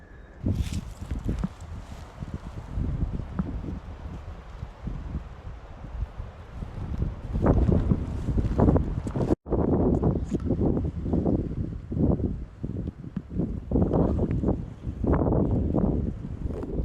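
Wind blowing into the face of a hunter scouting outdoors among pine and cabbage palm, a steady loud rumble and gusting roar against the microphone with rustling and possible footsteps, and no talk.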